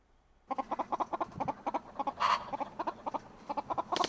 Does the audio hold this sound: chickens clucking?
yes